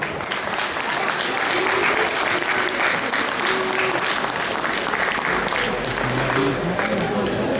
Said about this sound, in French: Vous pouvez applaudir très fort déjà.